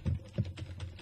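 An old non-USB computer keyboard being typed on, a few distinct clacky keystrokes in a short burst, fairly close and loud with no speech over them.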